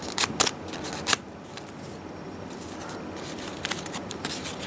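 Origami paper folded and pressed flat while making a Valentine's origami rose, a few crisp papery crinkles and swipes early on, then softer rustling over a steady background hiss.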